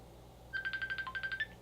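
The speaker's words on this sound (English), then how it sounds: "Phone's ringing." A phone ringtone plays a quick run of rapid electronic trill pulses, fairly faint, in a quiet room with no talk over it.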